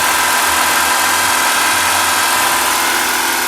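A Hyundai Accent 1.3 LS engine idling with the hood open, a steady close, loud mechanical hum with a low rhythmic throb and no talking.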